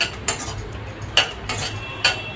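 Semolina (rava) being dry-roasted in a pan while a metal spoon stirs it, producing a few distinct scraping clinks against the pan at irregular intervals over a soft background.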